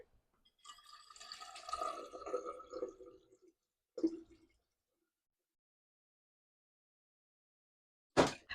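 Water runs into a reusable water bottle for a few seconds with a rising gurgle, followed by a short splash and clunk, then silence and a final brief knock near the end.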